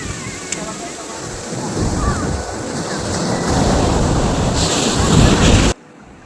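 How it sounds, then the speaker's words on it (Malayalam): Surf rolls in on a popular, crowded sea beach, a continuous loud wash of waves and wind that gradually swells louder before cutting off abruptly near the end. "അവിടെ നിന്ന് ഇങ്ങനെ തിര എണ്ണാനും തിര കാണാനും കടലിൽ കുളിക്കാനും"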